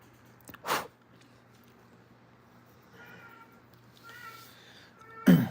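A cat meows several times indoors, a few short moderately close calls spaced out over several seconds, with quiet background between them and a sharper burst at the end.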